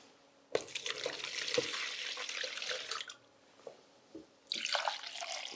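Tap water pours into a plastic bucket in two bursts, a splashing, gurgling stream followed by a few drips and knocks, then a second pour, close and fairly quiet.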